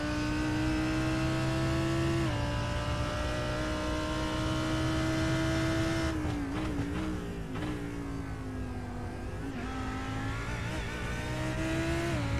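A GT3 race car engine in Gran Turismo revs hard and steady, holding a loud sustained pitch that dips and climbs through gear changes and a braking lift around mid-run, with no talk over it.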